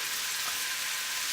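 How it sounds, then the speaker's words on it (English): Chopped onion sizzles in a hot oiled pan, a steady, close hiss of frying with no talk over it. "Go in with our onion. Nice sizzle, that's what we want here."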